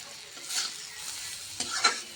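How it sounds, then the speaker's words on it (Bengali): Eggplant frying in a pan, a soft steady sizzle with two brief louder bursts of stirring or scraping, close and fairly quiet, no voices. "এ দেখো বেগুন ভাজতেছি"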